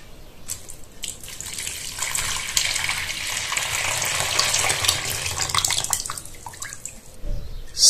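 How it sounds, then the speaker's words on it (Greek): About 600 grams of water pours from a tap onto sourdough starter in a bowl while traditional bread is being prepared, a continuous splashing gush that builds and holds for several seconds, then tapers off with a few drips. "και θα προσθέσουμε 600 γραμμάρια νερό."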